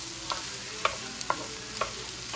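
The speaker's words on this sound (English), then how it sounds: "we're gonna cook this down to where it's sort of soft and translucent" Onion softens in a hot pan for Afghani mantu with a steady low sizzle. A handful of light, regular spoon taps and scrapes mark the stirring.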